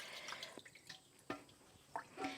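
Warm whey is poured over cheese curds during Gouda making, giving soft, irregular splashes and drips of liquid, close and quiet, without talk.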